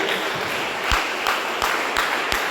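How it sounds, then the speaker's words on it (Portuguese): A congregation in a church service claps along, a dense wash of hands with a few louder, regularly spaced claps standing out, steady and fairly close. "As palmas bem alegre, exalta o nome do Senhor, bem alegre para Jesus."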